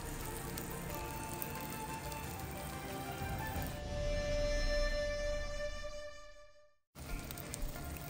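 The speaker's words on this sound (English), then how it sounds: "Notice how the eggs bubble" Eggs frying in a pan, a steady dense sizzle and bubbling crackle that swells, drops out abruptly near the end, then returns.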